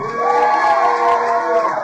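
A stand-up and storytelling show audience cheering and shouting yeah together, a loud sustained crowd roar with whoops close by.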